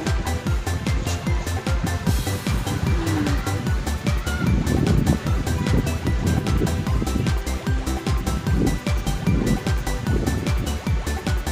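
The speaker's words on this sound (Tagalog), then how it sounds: "Alon dito sa Barogo." Ocean waves at Barugo beach in Leyte on a rainy day with high water, a continuous rushing wash with swelling surges, loud and close, heard alone without talk.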